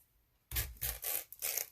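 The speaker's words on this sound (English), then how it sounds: "So the sari silk is easy to tear." Sari silk fabric tearing by hand, a quiet moment followed by several raspy ripping bursts in quick succession, close up and fairly soft.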